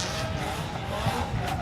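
A drift car with a Nissan SR20 engine roars hard at a drift event in Canada, its loud engine note blending with sustained tire squeal and skidding for a short continuous burst.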